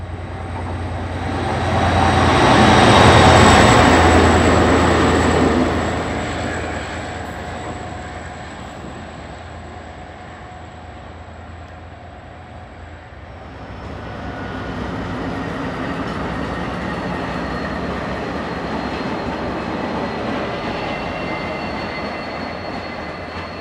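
KiwiRail locomotives DFB 7335 and DL 9291 pass a station in Wellington, a loud diesel roar swelling as they approach, then the steady rumble and clatter of rolling wagons with a faint high squeal.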